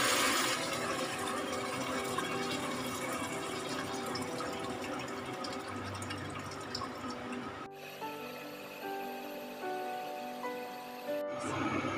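Coconut water pours into a cooking pot for green Thai curry, a steady liquid splash that changes tone partway through and cuts off briefly twice.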